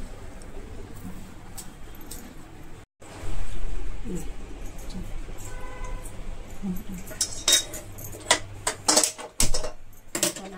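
Several sharp knife taps and clicks against a hard surface as potatoes are cut into small pieces, coming quickly near the end, over steady low background hum.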